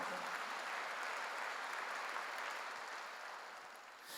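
A church congregation claps during a sermon. The applause is a dense, even wash that holds steady and then tapers slightly toward the end.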